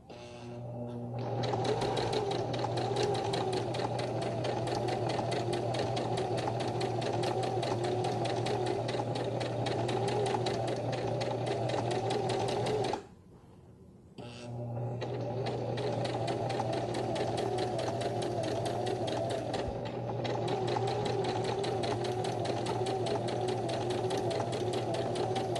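Sewing machine stitching romper fabric, a fast, steady mechanical whirr and clatter, close and loud, pausing briefly midway before running on again.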